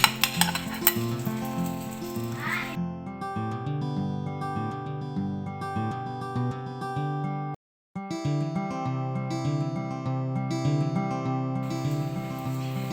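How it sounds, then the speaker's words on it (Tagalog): Eggplant siomai dumplings are lowered into hot cooking oil, which sizzles and hisses steadily under prominent background music, with occasional soft clinks of utensils. "So, lalagay muna natin itong mga ginawa nating eggplant siomay."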